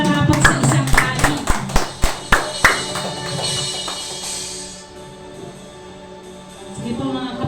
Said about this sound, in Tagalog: Yung palakpak po na nararapat sa isang hari